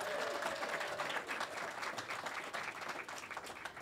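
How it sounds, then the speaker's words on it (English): Audience applause at a live storytelling show thanking a sponsor, a steady dense wash of clapping from a crowd that holds for the whole stretch, with faint talk mixed underneath. "Clap it up for them."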